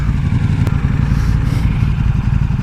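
KTM motorcycle engine running hard and loud, a steady close-up mechanical roar with a sharp clattering crack partway through as the engine fails.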